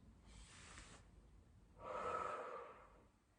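A person breathes in and then out audibly during an abdominal exercise, a soft inhale followed by a longer, stronger exhale, close and alone.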